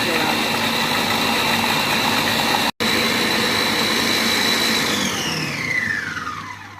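Compact Cook Pro food processor blending pea soup with bacon at speed 9, a loud, steady motor drone that runs continuously, briefly cuts out, then spins down toward the end.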